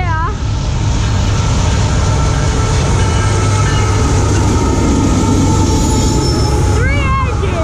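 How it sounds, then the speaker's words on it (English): A train rolls past at close range, its loud rumble and clatter of wheels sustained throughout, with squealing wheels rising near the end and voices faintly beneath. "Troy, there's a train right here!"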